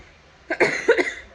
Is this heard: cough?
yes